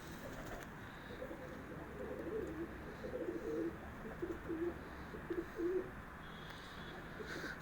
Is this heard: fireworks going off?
no